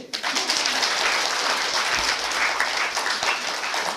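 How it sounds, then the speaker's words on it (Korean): Audience applauding at a Buddhist graduate school entrance ceremony, a dense, steady wash of clapping sustained throughout at even loudness. "박수 치세요."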